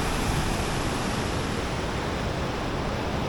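Steady broadband rush of the Aksai river flowing through its mountain gorge, a continuous loud roar of fast water with no breaks and no voices.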